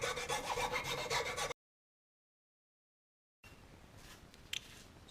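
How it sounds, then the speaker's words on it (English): A file rasps out a hole in a wooden lamp base with quiet, rhythmic scraping strokes, breaking off into a couple of seconds of silence before fainter rubbing resumes. "Now just filing this out for a while until I get the right size."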